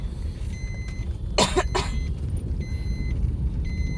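A person suffering from a cough, being treated with a nebulizer, coughs twice in quick succession close by, over a steady low background hum with faint repeating electronic beeps.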